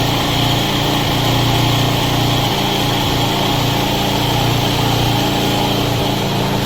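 A 2002 Yamaha WR250F motorcycle engine, a 250cc four-stroke dirt bike freshly fitted with YZ250F cams, running loud and close at a steady, high-pitched fast idle after a first-kick start, with no voices.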